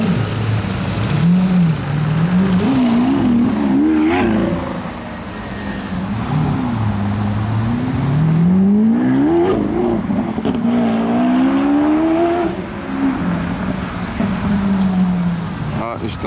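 A Lamborghini Aventador Roadster drives out among police vehicles on a Paris street, its engine note rising and falling loudly with revs close by, while people talk throughout.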